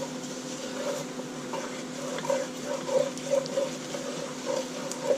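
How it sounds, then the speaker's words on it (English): A spoon keeps stirring a hot roux in a pot for chicken and andouille sausage gumbo, a soft steady scraping and sizzle with faint rhythmic scrapes, close and fairly quiet. "You got to keep stirring this stuff"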